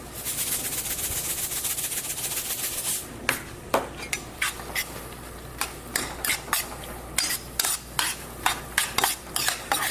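Ground pork filling with green onions and kosher salt cooking in a pan, a dense sizzle under brisk stirring at first, then a quieter fry punctuated by a steady series of sharp scraping clicks.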